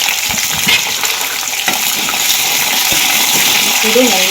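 Chopped large onions frying in oil with curry leaves in a pan for rava upma, a steady broad sizzle throughout with a few soft clinks, while someone speaks briefly over it.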